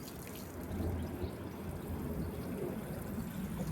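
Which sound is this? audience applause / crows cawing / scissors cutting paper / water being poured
water being poured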